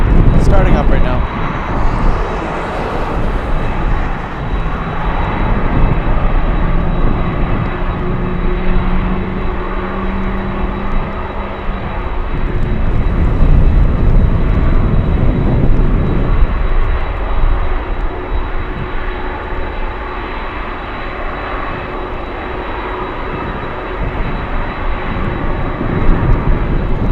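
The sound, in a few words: aircraft engines starting up at Anchorage airport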